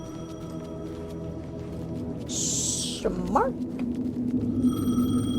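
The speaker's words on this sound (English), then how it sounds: "The payphone was ringing." A payphone rings in the video game Alan Wake 2, a bright electronic trill lasting about a second, followed by a low rising tone under steady ambient music, with a brief spoken word.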